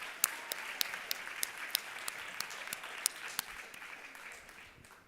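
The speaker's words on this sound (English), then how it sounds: "Please join me in giving them a round of applause." At a student nomination convention, the audience claps for two secretary candidates: a soft bed of crowd clapping with several sharp, loud individual claps standing out near by, gradually tapering off at the close.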